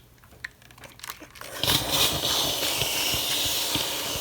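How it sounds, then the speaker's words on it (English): A steam iron hisses steadily while steaming a crocheted pineapple patch doily pinned to cardboard, a continuous close breathy rush starting after some faint handling noises. "I'm just going to steam it with my iron."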